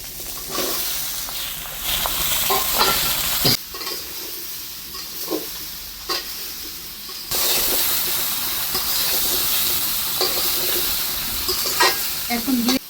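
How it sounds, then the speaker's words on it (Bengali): Chopped bottle gourd tipped into a pan over fried shrimp sizzles loudly and hisses with steam as it is stirred repeatedly. There are sharp scraping stirs and a sudden surge of sizzle partway through, with little or no talk. "এখন আমি লাউগুলি এই মাছটা ঢেলে দেবো"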